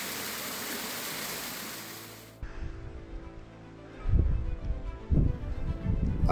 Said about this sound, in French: Une deuxième cascade se trouve un peu plus haut en bordure du sentier.